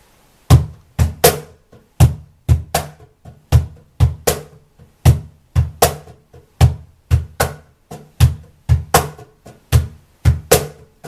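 A wooden cajón thumps out a steady eighth-note triplet blues shuffle, deep bass hits alternating with crisp slaps in a rolling triplet feel, loud and close.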